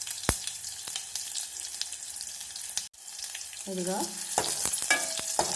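Crushed garlic and dried red chilies fry in hot oil for a Telugu palak dal, giving a steady close sizzle with brief stirring clatter; a voice speaks a single word.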